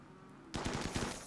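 Rapid bursts of video game gunfire from a shooter fight, a quick run of loud, close shots starting abruptly after a quiet moment and continuing to the end.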